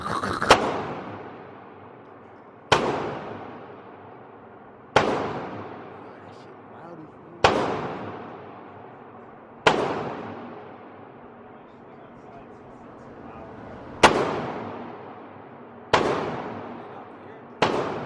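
Gunfire at an outdoor gun range, about eight sharp loud shots spaced a couple of seconds apart, each cracking and decaying into a ringing tail, alone without talk.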